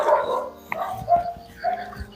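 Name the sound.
dog barking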